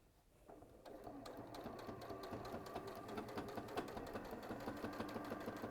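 A sewing machine runs steadily close by, stitching piping onto a cushion in one continuous whirring, rattling stretch with no voices.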